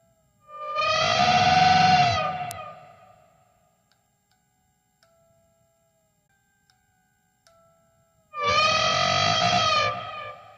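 Two loud, distorted trumpeting blasts played on an electric guitar through effects, imitating an elephant, separated by several seconds of near silence.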